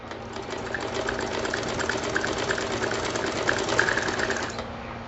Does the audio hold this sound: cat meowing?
no